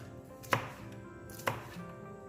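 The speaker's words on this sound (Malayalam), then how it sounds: "2-3 വെളുത്തുള്ളി അല്ലി ചെറുതായിട്ട് അരിഞ്ഞു വെക്കുന്നുണ്ട്." Two or three garlic cloves being finely chopped for vegetable fried rice, two crisp knife strikes on a board about a second apart, close and clear over a quiet background.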